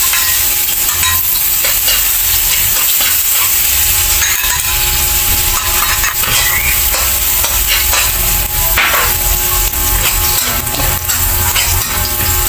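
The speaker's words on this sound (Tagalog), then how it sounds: "Lulutuin na natin ang ating mga ingredients. Nilagyan ko na po siya ng 2 teaspoon ng ating mantika para sa paggigisa." Ingredients sautéing in two teaspoons of cooking oil in a pan, a loud continuous sizzle with clinks and scrapes of stirring, heard alone and close up.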